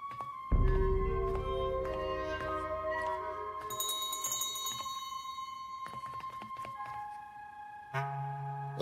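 Cartoon dream-sequence bells: a cluster of bright, sustained chiming tones rings out over a low swell, with layered bell notes entering and fading for several seconds, closely present and moderately loud, with no talking.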